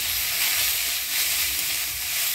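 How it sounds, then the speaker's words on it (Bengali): Coriander leaves frying in a little oil with black cumin seeds, giving a steady, close, bright sizzle and hiss that holds evenly throughout with no voices. "ধনিয়া পাতাটা ভালো করে ভাজে নিলাম।"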